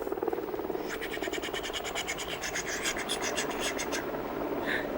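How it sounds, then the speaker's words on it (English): Helicopter sound effect in a 1981 children's television show, a rapid rhythmic chopping of rotor blades that swells in over a steady rushing hiss, with no talking. "It was a helicopter"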